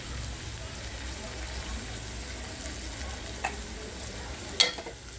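Turmeric goes into hot oil with garlic powder for a potato curry masala, giving a steady close sizzle of frying with a couple of sharp metallic clinks from a stirring spoon near the end.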